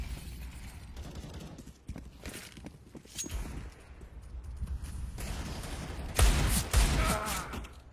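Gunfire in Counter-Strike during a professional PGL Major match at Krakow 2017, with scattered shots and sharper bursts at uneven intervals among footsteps and game ambience, getting louder toward the end.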